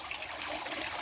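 Filtered water pours steadily down a double rock bog pond waterfall, a continuous hissing splash and trickle with no breaks, moderately close.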